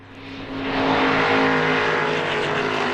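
Historic sports race cars thunder around Mount Panorama at Bathurst, engine roar swelling as a car approaches and passes close, loud and sustained with a high-pitched rasp over the low rumble.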